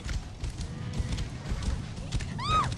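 Hooves clop along at a gallop as a summoned horse arrives in Assassin's Creed Origins, and the horse whinnies near the end over a busy background.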